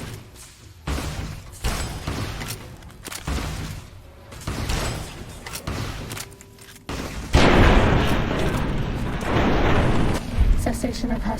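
A gun fires at a giant robot scorpion in the video game Fallout New Vegas, with repeated heavy booming shots in uneven bursts, growing into a louder, sustained barrage while a person talks between shots.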